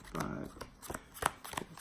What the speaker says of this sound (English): we're going to deal out some hands again